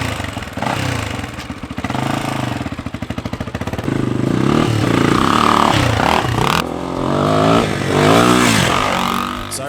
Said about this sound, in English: my 1995 XR250R is back on its wheels and it looks, runs and rides better than ever